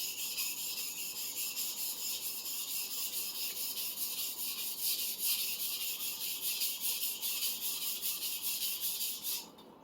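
A restored 250mm Minamito sujihiki knife is ground on a coarse sharpening stone, making a steady, close, gritty rasping hiss that runs unbroken for nearly ten seconds before stopping abruptly at the end.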